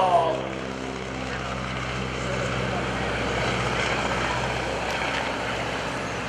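A wing-walking airshow plane's propeller engine drones loudly and continuously as the throttle comes back up, a broad steady roar with a faint rising tone at the start, with voices mixed into the noise.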